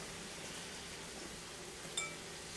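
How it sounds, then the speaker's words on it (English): Vegetables for a scratch-made stuffing sizzle and simmer in a pan, a steady, faint, hissing crackle that runs unbroken throughout, with one brief sharper clink near the end. "While the vegetables are sizzling, simmering,"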